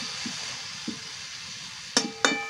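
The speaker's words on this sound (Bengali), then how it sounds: "শিমটা আমি একটু নেড়ে পরেই ঢাকা দিয়ে দেবো" Beans being stirred in a pan as they cook gently in tomato and onion juices: soft scraping under a faint low sizzle, then two sharp metallic clinks of a spoon against the pan near the end.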